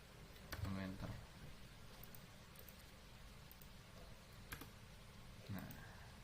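A few sharp computer keyboard clicks, including an enter key press, faint and sparse under a quiet room, with a person speaking around them.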